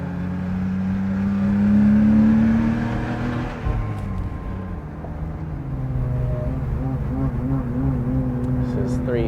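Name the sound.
car accelerating on Sonoma Raceway track next to Porsche GT3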